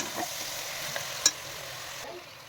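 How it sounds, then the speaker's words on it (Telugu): Masala paste made with coriander, cinnamon and cloves is stirred and roasted in oil for mutton biryani: a soft, steady sizzle with a few light scrapes and one sharp clink from the pan, close. "ఇవన్నీ మిక్స్ అయ్యేలాగా బాగా కలిపి ఆ పచ్చి వాసన వెళ్ళే వరకు రోస్ట్ చేయాలి."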